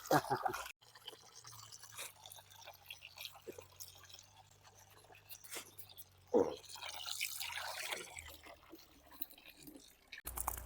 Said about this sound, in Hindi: पानी डाल देते हैं पहले थोड़ा थोड़ा